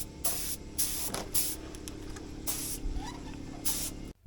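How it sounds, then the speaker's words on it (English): Bursts of hissing spray from a paint gun come in short repeated passes outdoors, applying single-pack paint to a Subaru GC Impreza WRX rally car, separated by a steady background hum. "we're spraying outside here using single pack paint"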